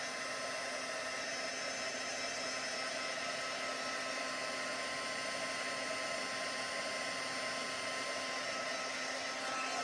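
Heat tool melting embossing powder on a watercolor card, a steady loud blowing whine with airy hiss that stays constant and unbroken, no talking.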